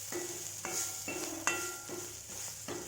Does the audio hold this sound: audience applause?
no